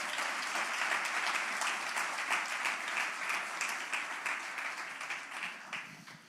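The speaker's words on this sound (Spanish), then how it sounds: "Pues dale un aplauso al Señor entonces." Church congregation giving a round of applause to the Lord during a sermon, many hands clapping in a dense, even stream that holds for several seconds and eases slightly at the close.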